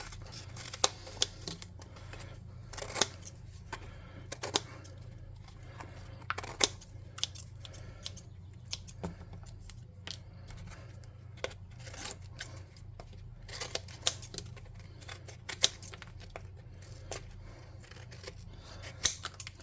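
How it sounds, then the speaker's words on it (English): Scissors snip around glued cardboard, producing a steady series of short, crisp cuts at an uneven pace, close but quiet, with no talk. "Then we'll just snip around here and take off the excess glue"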